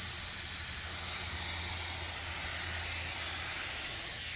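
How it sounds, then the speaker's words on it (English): Continuous aerosol spray hiss of activator misted onto hydrographic film for a gun receiver, steady and close for several seconds with no talking. "So I'm going to go ahead and spray this."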